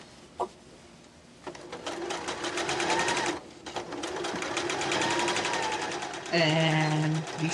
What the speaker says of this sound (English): I'm just going to stitch straight across.